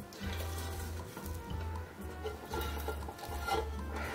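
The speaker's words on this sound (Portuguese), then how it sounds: "rapei toda a panela" Rapadura candy mixture being scraped from a cooking pot while making pé de moleque, a steady rough scraping and clinking of utensil against pan, close and continuous with no voices.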